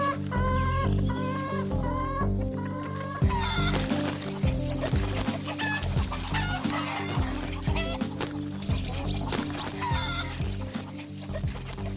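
Chickens cluck and call in a farm setting, their busy, overlapping clucks and squawks heard close up over a steady rhythmic music track that plays throughout.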